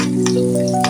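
Mustard seeds and dried red chillies in hot oil for sambar, a couple of sharp crackling pops over a steady, loud humming tone, close up and without speech.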